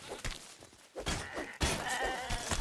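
Sheep bleating in the LEGO mode of the video game Fortnite, several short wavering cries over game sound effects, with a loud thunk partway through.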